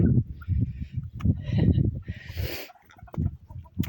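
Chickens cluck briefly in the background while someone talks over them.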